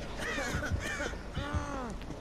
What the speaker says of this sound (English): Wishing the crows would shut up.